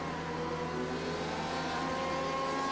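Porsche GT race car in a racing sim at Spa-Francorchamps, its engine holding a steady, loud, high-revving drone throughout, with no break or pause.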